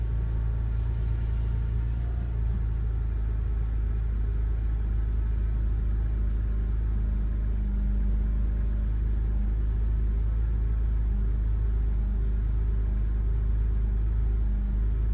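A BMW car with a manual gearbox idles steadily, a low continuous engine rumble heard close up with no revving and no talking.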